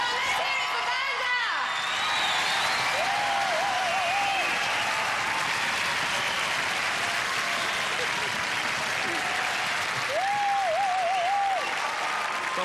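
Studio audience at the 1992 UK Gladiators series final applauding and cheering for Vanda, loud sustained clapping that fills the whole stretch, with a few whoops rising above it.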